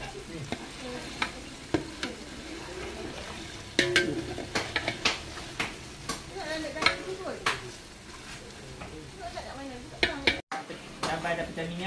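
Chili paste fries in oil in a pan for Mee Bandung, a steady sizzle broken by scraping spatula strokes and clinks against the pan, with a voice talking intermittently.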